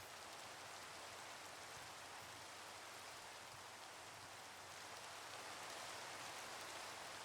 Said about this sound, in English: Oh, and then the rain came down.